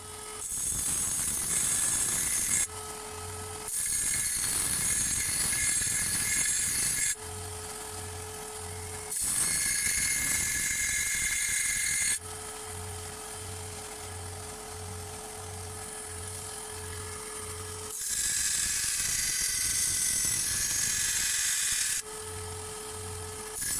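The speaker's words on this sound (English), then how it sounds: "I'm just using my bench sander here" A bench sander grinds a damaged lawn mower blade, its steady high whine broken into several long bursts as the steel is pressed against the abrasive, alternating with a softer idling hum between passes.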